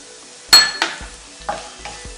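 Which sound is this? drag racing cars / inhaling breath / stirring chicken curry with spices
stirring chicken curry with spices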